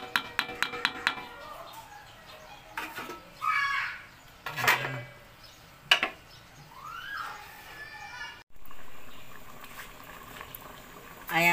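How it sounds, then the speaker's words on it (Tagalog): Adobo liquid bubbling and simmering in a pot, with scattered clinks and brief background voices and bird chirps over the low boil. "kumukulo na po"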